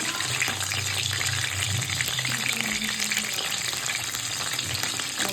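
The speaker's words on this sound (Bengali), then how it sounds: "ললিপপ ভাজা করছি।" Chicken lollipops deep-frying in hot oil give off a steady, dense sizzle and crackle that fills the whole clip at close range, with a faint low hum running underneath and no talking.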